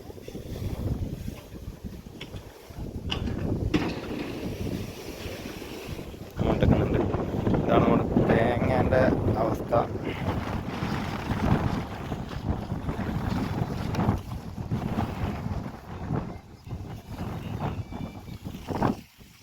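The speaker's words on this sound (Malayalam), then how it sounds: "നല്ല രീതിയിൽ കാറ്റ് വീശുന്നുണ്ട്" Strong wind roars and buffets the microphone throughout, with gusty swells and a rushing, watery background, close and loud.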